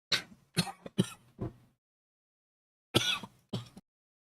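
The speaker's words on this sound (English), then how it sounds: "Still a bit of a cough." A person coughs and clears their throat in a burst of four rough, close hacks, pauses, then two more after a short silence.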